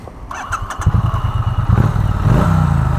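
2017 Triumph Bonneville T100 motorcycle engine with a low, loud burble, close by, starting rough and clattery and then settling into a steady, throbbing idle.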